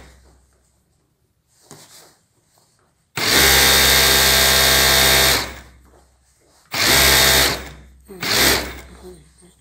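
An industrial sewing machine with a hemming guide stitches the hem of cotton fabric in three loud, steady bursts: a long run, then two shorter ones, with quieter handling noises between them and no speech.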